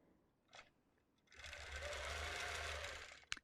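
Quilting sewing machine with a ruler plate stitching a Lone Star quilt, a steady close whirring run of about two seconds after a couple of faint clicks, ending with a sharp tap.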